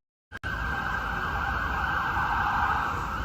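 An emergency vehicle siren wails steadily in downtown Toronto, starting abruptly after a short thump and holding a loud continuous tone over street traffic noise, with no voices.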